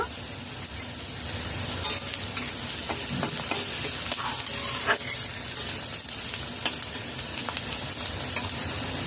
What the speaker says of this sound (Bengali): লো টু মিডিয়াম ফ্লেমে মশলা কষিয়ে নেব